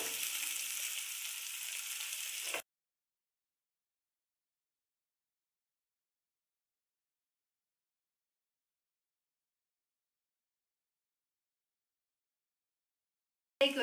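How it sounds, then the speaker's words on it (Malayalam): Finely chopped onions hiss steadily as they fry in a pan, then the sound cuts off abruptly to silence after a couple of seconds. "ചെറുതായിട്ട് അരിഞ്ഞതാണ്. ഇത് നമുക്കൊന്ന് വറുത്തെടുക്കാം."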